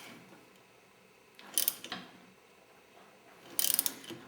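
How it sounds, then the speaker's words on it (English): A puller tool being worked to remove the starter clutch on a 1996 Yamaha YZF600 gives two short bursts of metallic ratcheting clicks a couple of seconds apart, close and distinct over a quiet workshop background. "now I'm going to pull it off once I get set up with my puller"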